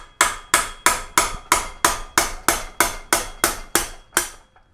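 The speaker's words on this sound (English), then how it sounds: "Now grab your metal hammer, strike it from the bottom, hold the top so it doesn't shoot out of the head tube." A metal hammer strikes a bicycle headset cup from below to drive it out of the head tube during a 1-inch threaded to 1 1/8-inch threadless conversion. About thirteen sharp, ringing metallic blows land at a steady, even rhythm, loud and close, with no talking.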